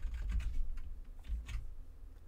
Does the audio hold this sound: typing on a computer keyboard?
yes